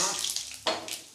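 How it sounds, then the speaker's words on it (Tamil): Mustard seeds fry in hot oil with a brief hissing sizzle. A sudden louder crackling burst comes partway through, close and fairly loud. "கடுகு போட்டுடலாம்."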